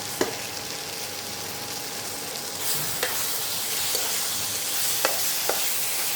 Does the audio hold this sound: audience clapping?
no